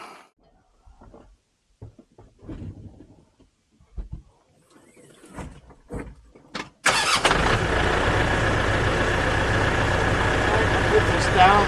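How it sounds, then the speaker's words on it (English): A tractor engine cranks and catches after some handling clatter and brief talk, then settles into a steady, loud, close idle that runs to the end. "I'll start the tractor up and cycle this through so you can see it."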